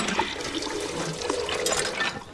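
Water runs steadily into a small bucket, a close, continuous splashing and gurgling pour with no talking.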